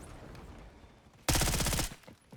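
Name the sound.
gunfire in video game Call of Duty Warzone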